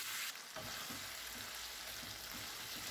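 Chicken for shawarma fries in a pan, a steady close hiss of sizzling oil with faint stirring scrapes throughout, no voices.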